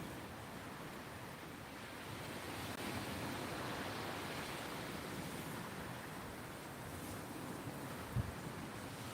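Steady wind roars at the seashore during sea fishing, with surf washing in beneath a constant broadband rush and one brief sharp knock near the end.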